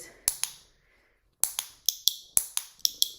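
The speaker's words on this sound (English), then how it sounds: "It's much more like these more sort of like button clicker sounds." Sharp dry clicks from a clicker training device: two quick ones, a pause, then a steady run of about eight evenly spaced clicks, close and crisp with no voices.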